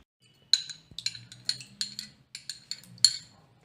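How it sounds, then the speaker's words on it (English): Masala ingredients are stirred in a bowl with a spoon, producing a steady series of crisp metallic clinks and taps, close and distinct against near silence. "Now we'll start mixing."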